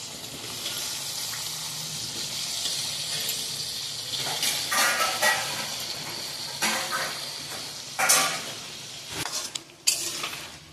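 Potatoes go into a pan of aloo posto with a soft sizzle, utensil scrapes and stirring clatter, a few sharper metallic knocks near the end; no talking.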